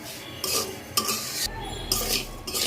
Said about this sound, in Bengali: এর মধ্যেই সেমাইটা ভাজতে হবে, একটু মানে বাদামি কালার করে ভাজবো আর কি